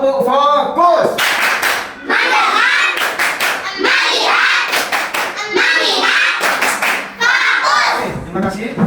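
Students in a classroom do the 'tepuk fokus' rhythmic clap, sharp patterned hand claps alternating with chanted voices and children's speech, loud and near.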